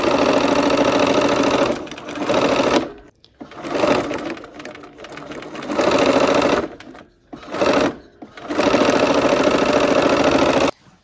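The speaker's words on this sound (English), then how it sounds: "We're gonna sew these last seams of the rows." A sewing machine stitches the final row seams of a barn quilt sampler, running loud and close in several steady bursts separated by short pauses, with no talking.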